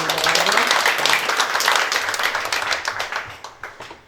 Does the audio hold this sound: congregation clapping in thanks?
yes